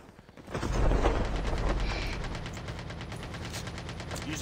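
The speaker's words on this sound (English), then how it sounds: "I'm getting sniped." Gunfire in Call of Duty Mobile battle royale: a loud burst begins about half a second in, followed by a sustained rattle of rapid shots that carries on steadily to the end.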